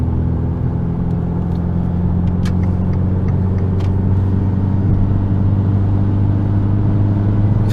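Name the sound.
small turbo car accelerating at full throttle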